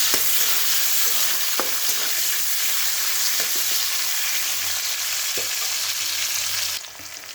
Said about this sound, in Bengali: তেল গরমের মধ্যে আমি কতগুলো পেঁয়াজ কেটে রেখেছি, পেঁয়াজগুলোকে ভেজে উঠিয়ে নেব